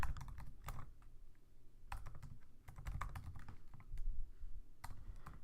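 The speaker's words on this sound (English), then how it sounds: "my typing is bad, age is not greater than or equal to, boy, my typing is really bad" Close, quiet clatter of fingers typing on a computer keyboard in irregular bursts, with key clicks clustered and pausing briefly while Java code is entered.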